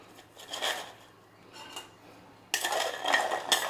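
Roasted cashews being tossed with salt and spice in a metal bowl, making soft scraping clinks and rattles that grow louder and busier in the last second, with no talk.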